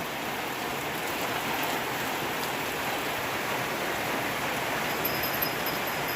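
Steady rain falling over a rural rice-harvest area, a dense, even hiss of drops that continues unbroken and fairly close throughout.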